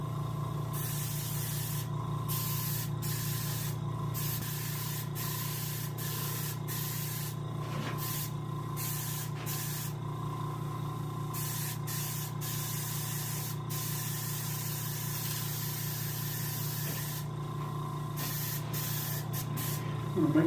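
A spray gun applies white pearl paint to a salmon fish body, giving a loud, steady, continuous hiss that runs unbroken through the whole stretch, with no talking.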